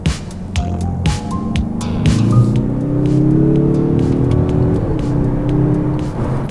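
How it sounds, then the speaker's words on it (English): A 2.5-litre turbocharged Mazda3 hatchback engine and exhaust accelerate steadily, the rising drone swelling from moderate to loud as revs climb over several seconds, with no talk. "The engine sounds nice"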